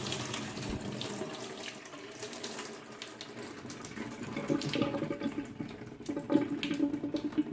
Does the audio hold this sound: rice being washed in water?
yes